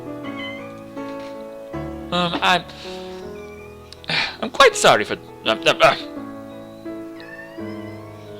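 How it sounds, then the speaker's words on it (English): A cat character named Terry meows in a couple of short bursts in the Panzermadels game, over a background music track, while a voice also speaks. "Terry, you're meowing at me."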